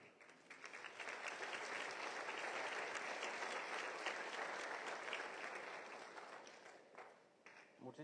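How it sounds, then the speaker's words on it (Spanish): Applause from a conference audience for a speaker at an agricultural artificial intelligence lecture, a sustained wash of clapping that swells, holds steady for several seconds and then thins out near the end. "Un aplauso para el doctor."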